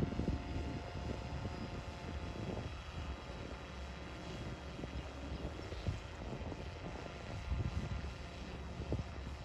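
A mapping drone flies a survey pattern overhead, turning to head back for its next row. A steady, even rotor drone carries through the whole stretch with wind rumble and no talk.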